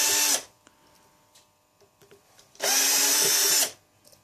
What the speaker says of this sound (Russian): Короче, открутим то, что можно открутить